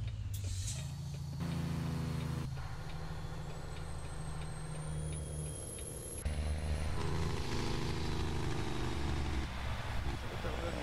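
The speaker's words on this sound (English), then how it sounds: "we're here in case you couldn't tell by the obnoxiously loud jake break" A heavy truck's jake brake in American Truck Simulator, a loud, steady, low rumbling drone that shifts pitch in stages as the truck slows, with a faint high whine running above it.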